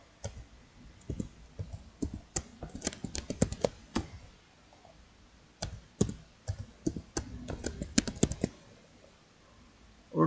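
Computer keyboard being typed on to enter a password, quick bursts of crisp, close key clicks in uneven clusters with short pauses between, no voices.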